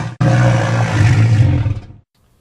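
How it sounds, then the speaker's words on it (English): A walrus call pitched down into a deep creature roar, one loud sustained growl lasting nearly two seconds after a brief click, then cutting off to silence. "part of him is walrus, and this is the walrus part."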